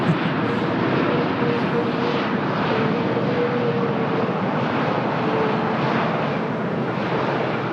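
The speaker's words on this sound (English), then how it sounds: "Another top Portugal flight that just landed all the way from Heathrow" A TAP Portugal airliner in from London Heathrow lands at Lisbon, its broad engine roar steady and loud throughout with a faint whine running beneath, with no breaks or pauses.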